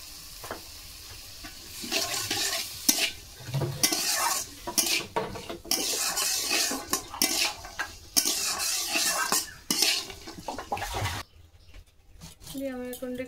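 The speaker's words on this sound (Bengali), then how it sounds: "লাগলে নেড়ে ফেড়ে দিচ্ছি।" Jackfruit seeds being stirred with salt and turmeric in a pan, giving repeated scraping and clattering of a utensil against the pan with a faint sizzle, ongoing and close, a voice heard briefly near the end.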